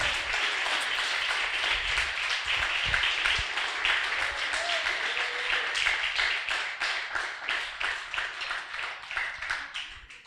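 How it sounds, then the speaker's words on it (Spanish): Sustained applause from a church congregation during a sermon, a thick continuous clatter of many hands with a few louder claps standing out and a faint voice underneath. "Aleluya, dele a Dios ese aplauso."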